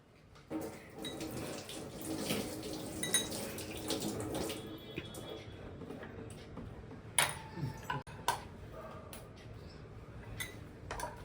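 Food is rinsed under a running kitchen tap, with a faint, steady flow of water broken by occasional splashes and light clinks nearby.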